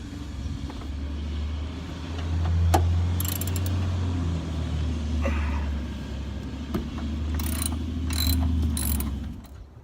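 Ratchet wrench backing out a bolt on an NA Mazda Miata while installing tow hooks: repeated clicking pawl strokes in short bursts over a low, steady idle-like rumble, close and fairly loud.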